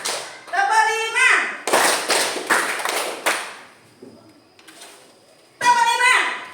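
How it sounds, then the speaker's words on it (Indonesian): A teacher-led classroom clap-counting game brings roughly five firm, steady hand claps after a sung voice, then a quiet pause before the voice returns. "tepuk 5,"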